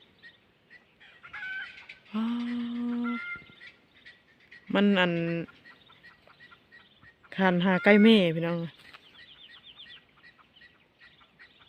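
Chickens calling near a rural home, three loud separate outbursts of clucking and crowing-like squawks, with quiet gaps between and a person speaking faintly in between.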